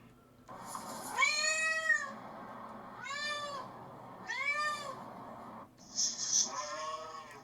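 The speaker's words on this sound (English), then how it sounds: "if you pitch cat meows up or down, they sound like tigers" Cat meows pitched down so they take on a deep, growling tiger-like tone: four drawn-out calls of uneven length with short gaps between, loud and close against a quiet background.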